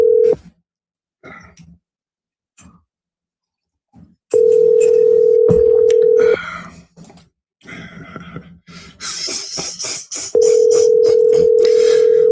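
A telephone ringback tone sounds while calling a friend: long, steady tones repeat with quiet gaps, with soft breathing, sighs and faint rustling in between.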